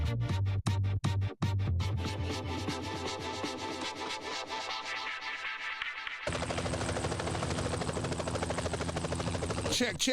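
A helicopter is heard at a DJ event, a loud, dense whirring rotor roar. It opens with sharp, rapid thumping pulses, then jumps abruptly into a brighter, sustained buzz near the end.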